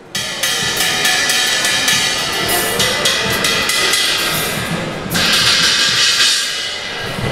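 Repeated strikes on a UFIC crash cymbal with a bright, ringing bell tone, washing continuously and loudly, with a fresh hard hit about two-thirds through.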